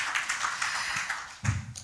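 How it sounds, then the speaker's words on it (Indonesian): Church congregation clapping in praise, a dense patter of hands lasting under two seconds, with a brief low thump near the end. "Give him applause."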